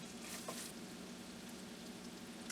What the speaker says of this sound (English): We're going to put that in and let it start sweating down first